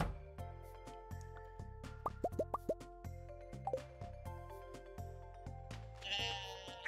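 Short pitched sheep bleats from the farm animals in the video game Stardew Valley, a cluster of quick calls sounding over a steady plucked background melody of game music with soft plopping effects.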